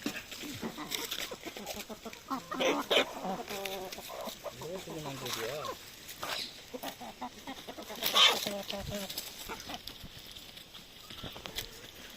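A high-grade rooster (seval) on a farm gives crowing calls, the clearest bursts near three and eight seconds, amid steady background noise and faint activity.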